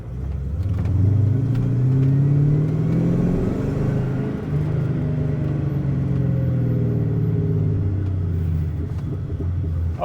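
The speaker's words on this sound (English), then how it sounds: "it's still got some burble to it when I let off" A car with a damaged exhaust that fell off and was refitted burbles and rumbles steadily after the throttle is released, a low continuous popping drone close by with no talk.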